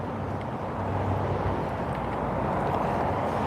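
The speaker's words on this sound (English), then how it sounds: "Whoa, heavy gusts of wind here." Heavy wind buffets the microphone on a town street in a steady, roaring rumble with no voices, loud and close throughout.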